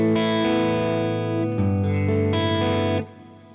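An electric guitar on a clean tone played through an HX Stomp snapshot rings out in sustained chords, a few strums changing pitch, with effects-laden shimmer and a decay at the end.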